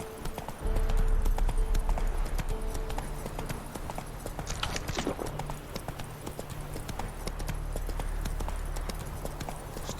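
Roach the horse's hooves clip-clop steadily at a walk in a video game, a continuous rhythmic clatter close by with low ambient game sound beneath.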